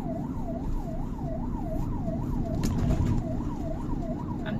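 An ambulance siren wails in a steady rising-and-falling cycle, fairly close and loud, as the vehicle moves through road traffic, with engine and road noise underneath and no talking.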